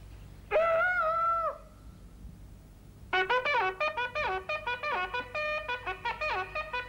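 A pigeon, in an animated dolphin film, gives one drawn-out warbling call, then after a pause a rapid, loud run of bright chirping notes, heard alone without talk.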